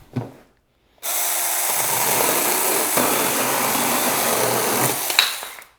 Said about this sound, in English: I don't know what this chainsaw is rated for, but let's see what she does.